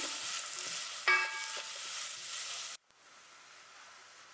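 Onions sizzle in hot oil while being stirred, a crackling hiss with brief scraping sounds, then it cuts to quiet.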